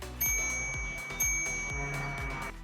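The handlebar bell on a Euphree Stellar Falcon e-bike is flicked twice, a second apart. Each bright metallic ding rings out clearly and decays slowly, with no voices.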